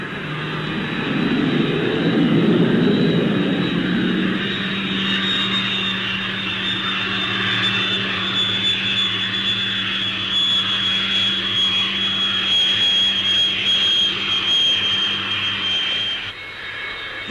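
A Fairey Delta II research jet takes off at the Farnborough air show, its engine a loud, steady roar with a high whine that holds for most of the run before cutting off abruptly near the end.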